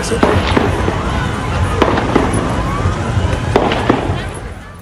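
Sharp gunshots crack out at irregular intervals over constant loud background noise, sounding distant amid a busy outdoor scene during a terror attack at Bondi, Australia.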